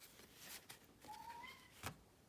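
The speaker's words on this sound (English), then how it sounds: "as you can hear, cat issues in the back" A needy, unhappy cat meows in the background of a room, one faint, short rising meow with a second brief cry, distant under a low steady hiss.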